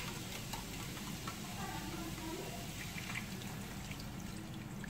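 Coconut milk poured into a pot of shrimp curry with vegetables, a steady soft trickling wash under constant background noise, faint and continuous without any speech.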